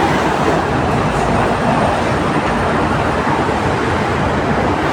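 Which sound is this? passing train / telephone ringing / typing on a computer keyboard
passing train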